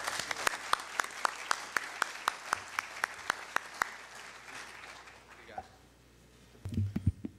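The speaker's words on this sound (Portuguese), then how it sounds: "Vamos dar uma salva de palmas." Panel forum audience gives a round of applause, heard as a sparse run of distinct, evenly spaced claps fading out after about four seconds, followed by faint background shuffling and a brief low bump.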